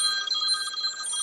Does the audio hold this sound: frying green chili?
no